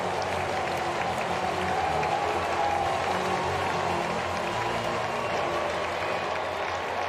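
Baseball stadium crowd of about 25,000 rising to its feet at a Cardinals–Nationals MLB game, a sustained wash of applause and cheering that holds steady throughout, loud and enveloping.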